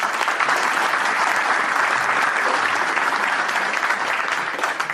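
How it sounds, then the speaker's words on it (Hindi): Loud, sustained applause from a seated audience at a business development seminar, dense and steady clapping filling the room without pause. "अपने आप के लिए जोरदार ताली बजा दीजिए"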